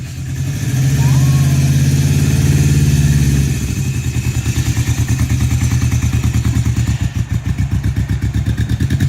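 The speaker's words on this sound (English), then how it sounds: "All right, Laura, get that bike home." A Yamaha XS400 motorcycle revs loudly nearby, then settles into a rhythmic, pulsing engine note as it pulls away, the loud exhaust throb continuing to the end.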